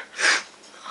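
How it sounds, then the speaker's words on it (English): A single breathy sneeze from a person having a nose piercing, close to the mic, a short hissing burst that trails off with no talk. "I'm just sneezing"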